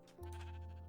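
A sheep in Minecraft gives a single close, sustained bleat, a steady nasal tone that starts abruptly and holds to the end, with no speech.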